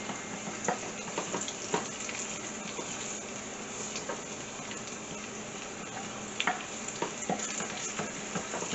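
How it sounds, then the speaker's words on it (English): Onions, garlic, fennel seeds and cumin seeds sizzle steadily in a hot pan for dahl. A dense, even crackle runs throughout, broken by the occasional scrape of stirring. "I added onions and garlics to it. It's nice and getting brown there."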